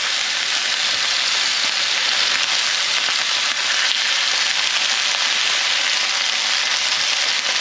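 Stuffed chicken browns in a frying pan with a loud, steady hiss of sizzling oil that runs unbroken from start to finish and has no talk over it.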